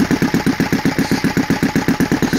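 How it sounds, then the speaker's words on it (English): A ROTO 85 FSI inline twin model engine runs with a throbbing, evenly pulsing exhaust beat that slows only slightly, loud and close with no talking. "spool down, you know, until it gets down to the RPM"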